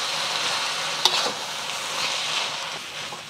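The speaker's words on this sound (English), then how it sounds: "I'm just gonna stir this up" Tomato beef fried rice sizzles steadily in a pan as it is stirred, a broad frying hiss with a couple of sharp utensil scrapes standing out near the start and end.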